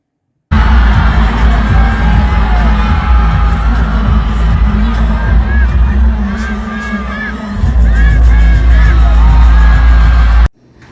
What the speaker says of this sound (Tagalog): lalong sigawan ang mga tao nang tinanggal na nito ang kanyang suot na malaking t-shirt